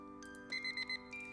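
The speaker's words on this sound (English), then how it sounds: "I'm just about to enter the lab to begin my legitimate work when the catalog beeps." A catalog device in the video game Purrfect Date beeps four times in a quick, even series of short electronic tones over a soft sustained synth music bed, faint and without voices.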